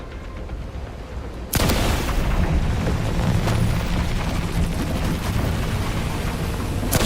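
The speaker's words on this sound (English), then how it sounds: "let's give this electric rifle a try" An electric rifle fires in The Last Caretaker video game, a sudden loud blast after a quieter stretch, then a sustained rumbling, crackling roar, with a second sharp burst at the very end.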